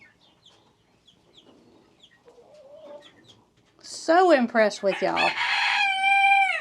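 Chickens clucking and squawking loudly up close, with one bird crowing at the end, after a person speaks quietly.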